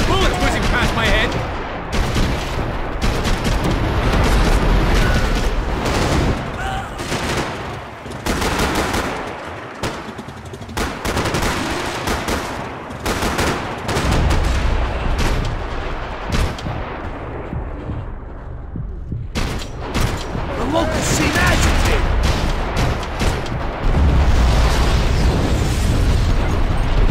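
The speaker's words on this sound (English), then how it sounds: "I can't concentrate with the bullet whizzing past my head!" Heavy gunfire and explosions from a Max Payne 3 firefight keep up a dense, loud barrage of rapid shots and bursts throughout, with bullets whizzing past and voices speaking now and then underneath.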